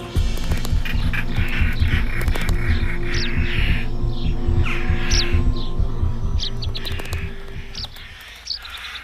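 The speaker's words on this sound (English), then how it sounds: "Rollers are very noisy at the onset of the nesting" European rollers call repeatedly near their nest in the cracks of a centuries-old abandoned farmhouse, harsh chirping notes recurring every second or two over a steady low hum and distant background birdsong.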